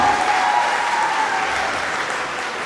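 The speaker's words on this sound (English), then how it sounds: "they deserve a round of applause as well" Sustained, dense applause from a large audience at a medical and dental annual gala, loud and even throughout with no gaps.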